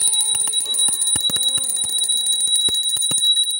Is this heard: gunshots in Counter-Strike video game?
no